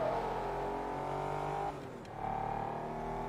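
A stock car fitted with a body kit in Forza Motorsport 2 holds a steady loud engine drone, dips briefly as if on a gear change, then pulls again without speech.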